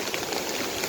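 A stream swollen by monsoon rain rushes under a bridge in Seosan, South Chungcheong, giving a continuous, loud, hissing wash of water with no pauses.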